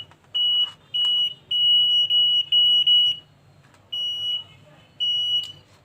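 A repaired hand-held metal detector sounds its alarm in a series of loud, piercing electronic beeps: short and long tones of a single steady pitch, some running together, separated by brief gaps.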